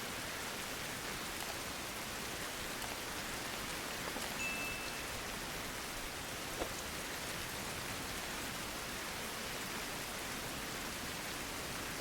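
Video game rain hisses evenly throughout, a dense, unbroken patter with no voices or other sounds.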